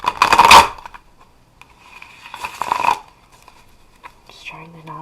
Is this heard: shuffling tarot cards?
yes